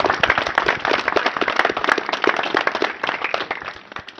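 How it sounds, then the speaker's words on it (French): A modest outdoor audience at a 14 July parade ceremony in Pionsat claps for the firefighters, individual hand claps clearly distinct and irregular, moderately close, thinning slightly toward the end. "on peut les applaudir"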